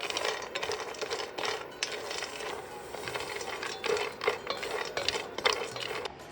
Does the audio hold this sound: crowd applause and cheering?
no